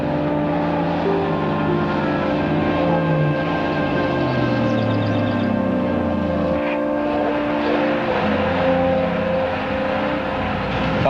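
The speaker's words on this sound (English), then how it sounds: "Sounds like a truck." A truck engine approaches in a forest, a loud, steady mechanical drone with shifting low rumbling tones that persists without letup as it draws near.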